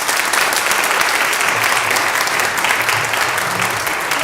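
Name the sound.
audience applause for speaker panel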